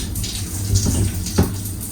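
Shower water runs steadily inside a first-class private cabin on a Thai sleeper train, a constant close hiss and splash with a few brief knocks and spatters.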